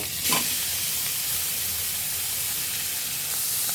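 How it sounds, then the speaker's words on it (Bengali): Shrimp fry in a pan with butter as part of making fried rice, giving a continuous loud sizzle and hiss with a brief stir near the start. "এখন চিংড়ি মাছগুলো ভেজে নেব।"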